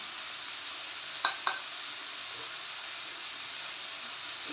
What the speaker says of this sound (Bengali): এবার পোস্ত আর বাদাম যেটা মিক্সিতে মিক্স করে রেখেছিলাম সেটা দিয়ে দিচ্ছি